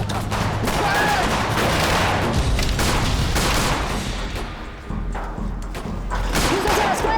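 Soldiers fire guns in rapid, overlapping bursts and single shots, a loud close fusillade with thuds and booms that keeps going throughout. Shouting voices come through now and then.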